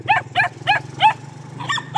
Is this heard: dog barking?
yes